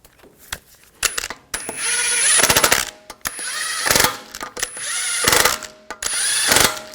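A power impact tool snugs down lug bolts on a car wheel: several loud, close bursts of whirring and rattling hammering, each lasting about a second, separated by short pauses and clinks of metal, with no talk.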